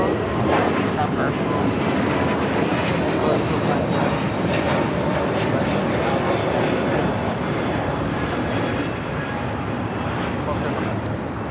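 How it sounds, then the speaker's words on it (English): A brand-new Spirit Airlines Airbus A321neo departs from Los Angeles airport with a sustained, even jet rumble and rushing noise, while voices chat on top of the engine sound. "That Spirit flight taking off, heading to Detroit. A321neo, brand new"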